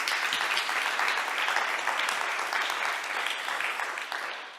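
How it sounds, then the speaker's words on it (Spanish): An audience claps for a speaker named Luis at an education talk. The applause is dense and sustained and slowly fades toward the end, with no talking over it. "Un aplauso para Luis."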